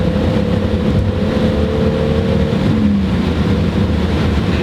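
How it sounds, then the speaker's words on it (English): Constant loud wind roar and low road rumble fill the cabin of a moving Toyota Supra, with a faint engine drone underneath, no exhaust note and no voices. "It's all wind noise, that's all you hear, there's no exhaust note."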